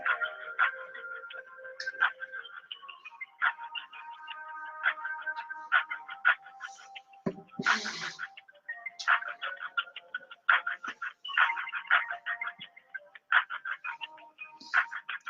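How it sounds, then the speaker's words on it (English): A telephone line on hold plays a looping electronic tune of steady beeping tones with a brief noisy burst partway through, clear and continuous with no talking. "That's my phone on hold"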